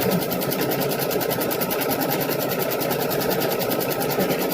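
An embroidery machine stitches a Christmas ornament in a steady, rapid mechanical rhythm, running continuously and close by with no talking.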